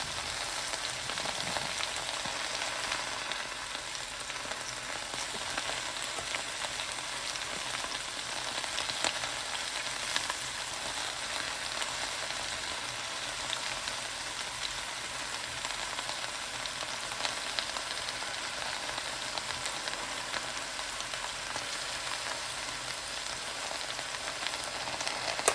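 Cabbage fries in vegetable oil with a constant, even sizzle and crackle, a soft, hissing wash that stays steady throughout with no talking.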